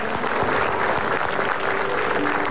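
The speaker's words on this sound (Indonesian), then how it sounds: "Kita harus tepuk tangan untuk semua narasumber" Studio audience at an Indonesian comedy talk show applauds the panel guests, a dense steady wash of clapping from a large crowd, continuous and fairly loud without a break.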